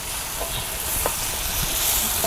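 Oncom frying in a pan while being stirred with seasoning, a steady close sizzle with light scraping of the stirring utensil.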